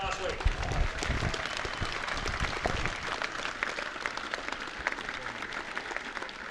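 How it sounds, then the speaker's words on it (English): Crowd applause at a junior gridiron tournament in Australia, a steady wash of clapping over outdoor ambience with a few louder claps standing out. Voices may be faintly mixed in underneath. "give a big round of applause for every player that has played in this tournament over the last week"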